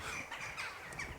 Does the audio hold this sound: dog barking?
no